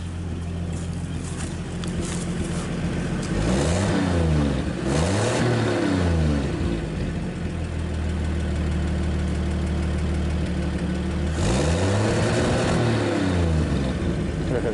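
A 1959 Chevrolet Apache truck engine, started for the first time in years, idling roughly, then revving up in a few surges before settling back, close and loud throughout.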